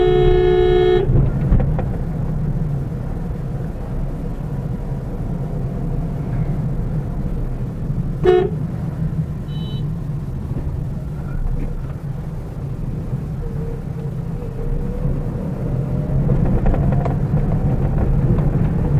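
Car creeping through a traffic jam in India, heard from inside: a continuous low engine and road rumble, with a short horn toot near the start, another brief honk midway, and faint distant traffic.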